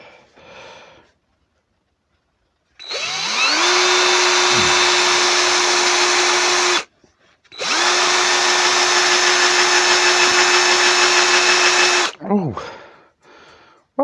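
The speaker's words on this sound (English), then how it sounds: "then drill a 9mm hole in his head" Power drill boring a 9mm hole into hard mulberry wood, two long sustained whining runs of several seconds each separated by a short pause, with someone speaking briefly before and after.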